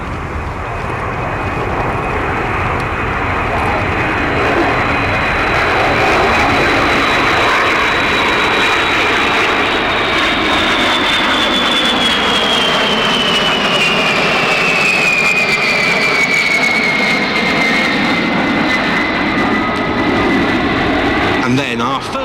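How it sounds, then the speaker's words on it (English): A NATO Boeing E3A Sentry AWACS jet flies past at an airshow display, a loud sustained roar with a sweeping whine that shifts in pitch as it passes, heard under a commentator's voice. "Nato's very own Boeing E3A Sentry AWACS."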